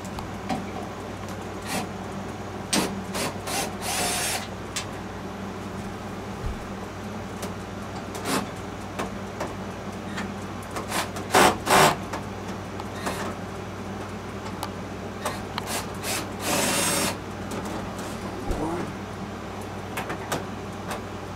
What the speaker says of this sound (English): We're going to come over here, we're going to have to remove this cover.